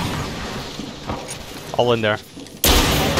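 Gunfire in a video game: a loud, abrupt blast of shots at the end, after muffled game noise and a brief spoken line.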